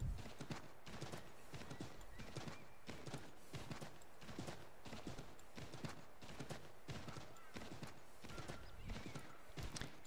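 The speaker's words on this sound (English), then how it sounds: "Riding my horse to where I need to go." Horse hooves clip-clop in a steady, quick rhythm as a horse is ridden in the video game Assassin's Creed III, close and continuous, with a faint whinny and no talk.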